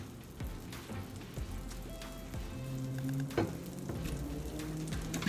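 Garlic hits melted butter in a hot pan for chicken Alfredo, giving a steady close sizzle and crackle, with utensil scrapes and clinks throughout.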